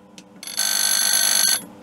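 A repaired Spirit of Saint Louis telephone rings once with a steady electric bell about one second long, loud and close, with a faint click just before and quiet afterward.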